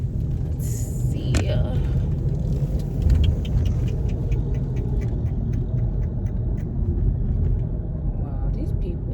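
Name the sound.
car driving while making a U-turn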